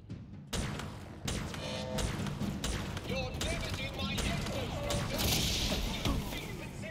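Missile launcher blasts and explosions from an enemy in Halo Infinite, heavy booming bursts and weapon clatter layered with game music, while a player talks and exclaims over the combat.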